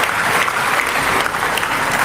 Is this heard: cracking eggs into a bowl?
no